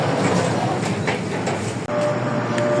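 Metro train of Egypt's New Administrative Capital rumbling along the track, a steady loud rolling rail noise with faint clatter throughout and a brief dropout near the end.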